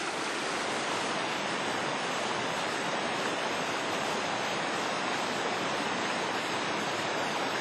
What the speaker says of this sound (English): This is a young river with rushing waterfalls that act like natural sculptors, carving out beautiful landscapes through the deep forest.